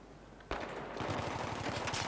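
Rapid automatic fire from a FAMAS rifle in Battlefield 3 opens after a brief quiet stretch, a loud sustained burst of closely spaced shots that continues to the end.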